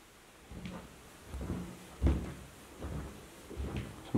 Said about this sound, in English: Some creaky stairs.